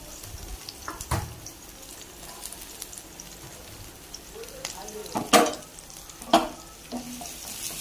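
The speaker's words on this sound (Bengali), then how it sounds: "পেঁয়াজটা দিয়ে নাড়াচাড়া দিয়ে ভাজা ভাজা হবে।" Onion fries in a pan of hot oil after fish has been fried, giving a soft continuous sizzle broken by a few sharp scrapes and knocks as it is stirred.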